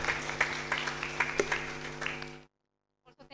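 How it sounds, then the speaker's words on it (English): Applause for three speakers at the close of a conference session, a thin patter of clapping over a droning hum for about two seconds before it cuts to silence and brief speech. "Let's give a round of applause for all of our three speakers today."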